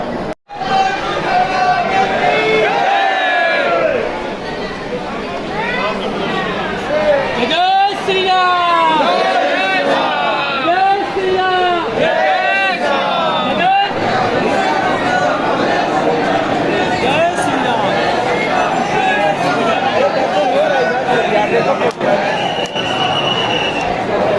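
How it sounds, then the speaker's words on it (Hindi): Large crowd of pilgrims at the Hanuman Garhi temple gate in Ayodhya, a loud continuous babble of many voices with shouts and chants rising over it, while a nearby speaker talks across much of it. "इतनी सारी भीड़ जो है वो साथ में एक साथ अंदर जा रही है और एक साथ बाहर आ रही है"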